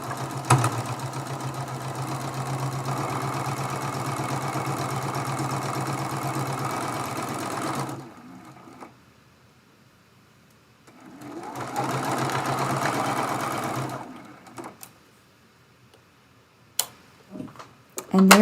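A sewing machine stitches the last seam of a Dresden Plate quilt block made from charm pack fabric, running steadily for about eight seconds, pausing, then running again for a shorter burst, with a few light clicks afterward.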